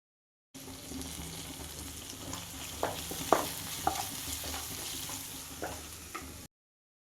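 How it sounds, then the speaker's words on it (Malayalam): Onion, ginger, garlic, green chili and curry leaves sautéing in oil in a pan, a close steady sizzle broken by several scraping stirs of a spoon, no voices. "പാനിലേക്ക് കുറച്ച് ഓയിലോ വെളിച്ചെണ്ണയോ എന്തെങ്കിലും ആഡ് ചെയ്ത് കൊടുത്തിട്ട് കുറച്ച് സവാള, ഇഞ്ചി, വെളുത്തുള്ളി, പച്ചമുളക്, വേപ്പില ഇതെല്ലാം ഇട്ടിട്ടൊന്ന് വഴറ്റിയെടുക്കണം"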